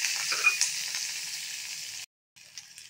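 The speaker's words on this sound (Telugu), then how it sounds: "బాండి పెట్టుకొని కొంచెం 2 స్పూన్లు నూనె వేసుకొని పచ్చిమిరపకాయలు వేసేద్దాము" Green chillies fry in about two spoons of oil in a kadai, giving a close, steady hiss and sizzle that stops briefly and then resumes.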